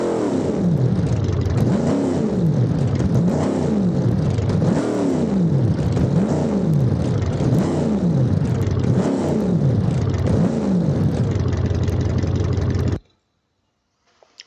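A 7-liter methanol double-overhead-cam drag car engine in the racing game Automation revs again and again in loud, regular rising and falling sweeps, heard alone before cutting off abruptly near the end.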